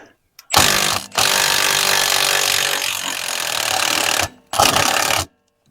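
An impact wrench works a Loctite-stuck motor mount bolt loose on a 4.0 Jeep TJ, loud close bursts of rapid hammering, one long run, then a pause and a short final burst.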